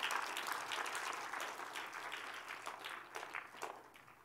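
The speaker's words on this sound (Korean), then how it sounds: "Give them a big hand." An audience applauds the event staff with sustained, dense clapping that rises loud at first and then slowly fades, heard alone without talk.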